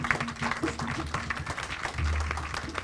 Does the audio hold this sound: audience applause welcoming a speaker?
yes